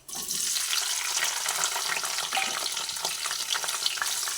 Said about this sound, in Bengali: এরপরে প্রথমে আমি ক্যাপসিকামগুলো দিয়ে ভেজে নিচ্ছি